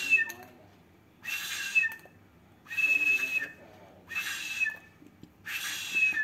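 Someone blows into a whistle on an old-fashioned inflatable toy ball, giving four breathy, shrill whistle bursts about a second long, separated by short pauses and heard up close.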